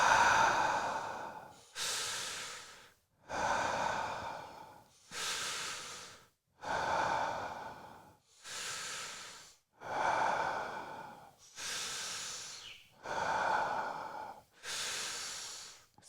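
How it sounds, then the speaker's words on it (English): Deep, slow guided breaths repeat in a steady rhythm, about nine long airy inhales and exhales close to the mic, each separated by a short pause, with no talking. "Breathing in for 20."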